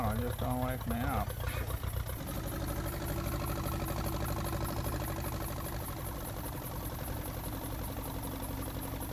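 Tractor engine idling in the Farming Simulator 19 video game, a steady mid-pitched drone with a knocking rumble, loud and continuous after a brief burst of other game sounds at the start.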